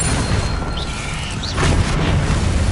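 Explosive spell blasts in Hogwarts Legacy on PS5, a dense, loud rumbling wash with a few swishing flourishes, swelling slightly toward the end.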